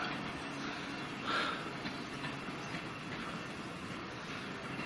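A train on the West Somerset Railway passes at a distance, a faint steady rumble with soft rail clatter that stays low throughout.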